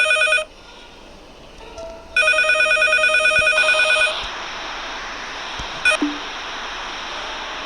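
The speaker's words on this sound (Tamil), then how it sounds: "எதுனா ஃபோன் அடிக்கிற சவுண்டு இருக்குதுங்க" A phone ringing in a ghost video game gives bright, electronic ringtone bursts, one short, then a longer ring that fades into a hissy background, with a brief final blip.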